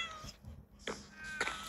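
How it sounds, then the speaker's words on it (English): A cat in the Minecraft video game, kept in a zoo enclosure, gives two or three short, quiet meows spaced apart, with no talking. "To the left, we have a cat enclosure."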